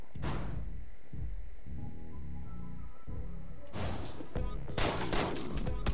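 Gunfire in the video game Deadbolt: a sharp burst opens, then a lull of low rumbling game ambience, and a rapid cluster of loud shots follows near the end.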